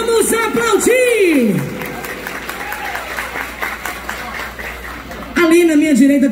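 An audience at a town's 30th anniversary civic event claps and cheers, a broad wash of applause under a loud voice on a public address system.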